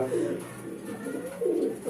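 Racing pigeons, a paired cock and hen, give soft, low rolling coos close by, two or three swelling calls repeating in quick succession with no voices.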